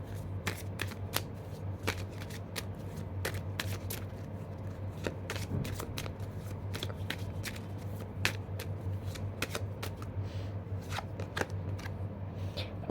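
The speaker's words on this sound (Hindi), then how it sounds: "तो अभी मैंने निकाल लिया आर्कएंजल ऑरिकल डेक।" An Archangel oracle card deck being shuffled by hand, close and quiet, with quick crisp riffling flicks repeating at an uneven rhythm over a steady low hum, no talking.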